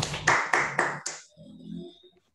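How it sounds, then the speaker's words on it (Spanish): One person clapping hands, five sharp claps in a steady rhythm, close and fairly loud, followed by faint low murmuring after the claps stop. "Voy a aplaudir un poco así."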